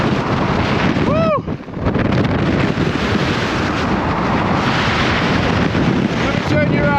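Strong wind buffets the microphone on an exposed mountain summit, a loud continuous roaring rush that barely lets up throughout, with a brief dip and a whistling tone partway through.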